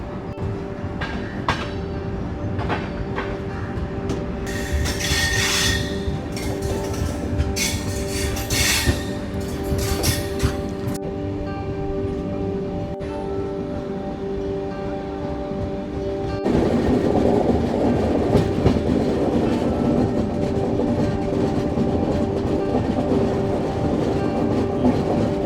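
Kondaveedu Express pulls away from Penukonda station after a one-minute halt, a steady rolling rumble with clickety-clack of wheels on rail joints, some metallic squealing early on, and louder, fuller running noise in the second half.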